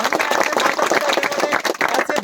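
Loud audience applause for a child's parents at a gathering, dense clapping throughout, with voices mixed into it.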